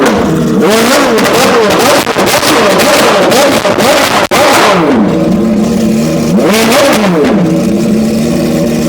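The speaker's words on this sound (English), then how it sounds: "Oh, they just started up the T50S." The mid-engined V12 of a T50S supercar revs hard and repeatedly outdoors, the loud rising and falling wails coming in several sweeping bursts over crowd noise.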